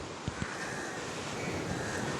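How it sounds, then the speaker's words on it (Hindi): Sea waves wash steadily at Colva Beach in Goa, a soft, continuous surf rush mixed with wind noise buffeting the microphone, with two brief low thumps near the start. "बस समंदर की लहरें हैं और दिल को सुकून देने वाली खामोशी।"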